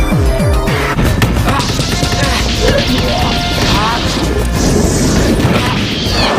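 Kamen Rider Knight's Hisou Slash special attack striking a monster: a dense burst of loud crashing, smashing impacts and booms with sweeping swishes, continuous and close for several seconds.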